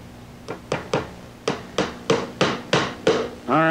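Brads hammered into plywood on a model railroad layout: eight sharp, near hammer strikes in an uneven rhythm, followed by a short rubbing scrape.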